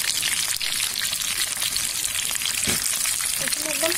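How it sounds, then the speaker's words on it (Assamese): Lollipop chicken legs fry slowly in oil over low heat, giving a steady, dense hiss and crackle with scattered pops throughout. "এইখিনি একদম চিমত ফ্ৰাই কৰিব লাগিব, প্ৰায় 10 মিনিটমান ফ্ৰাই কৰিব লাগিব"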